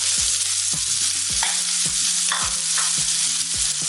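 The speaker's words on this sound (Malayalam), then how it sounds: "ഒരു 3 ടേബിൾ സ്പൂൺ വെളിച്ചെണ്ണ ഒഴിച്ചു കൊടുത്തു. ഒരു 2 കടുക് ഇട്ട് കൊടുത്തു. പിന്നെ ഒരു 2-3 വറ്റൽമുളക്. ഒരു വലിയൊരു സവാള," Mustard seeds, dried chilies and onion frying in coconut oil hiss and crackle steadily, with stirring noises, beneath background music carrying a regular, thumping beat.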